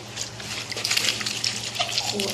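Clothes soaking in warm water with detergent, water splashing and gushing in a steady wash for a couple of seconds, fairly close, with no talking.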